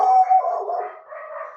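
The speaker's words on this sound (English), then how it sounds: "dogs are barking." A dog barks and howls nearby in a home kitchen, one drawn-out, fairly loud yowling cry that fades and then returns more softly.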